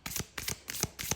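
A Naked Heart Tarot card deck is shuffled up close: four quick, evenly spaced riffling bursts of card flutter in a short, quiet passage with no talking.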